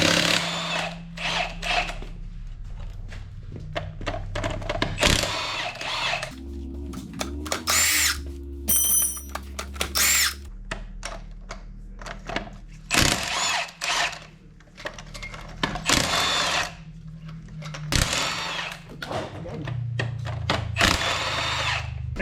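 A power tool tightens lug nuts on the wheels of a lifted 6.7L Powerstroke truck, giving repeated short whirring and rattling bursts close up, with clanks and handling noises between them.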